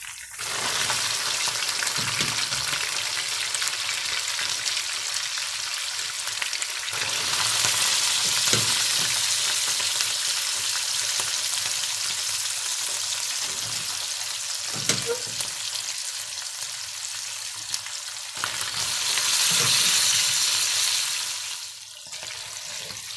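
Tomato paste fries in butter with a steady, close sizzle and frequent stirring scrapes, swelling louder at moments as bulgur meatballs go into the sauce; no talking.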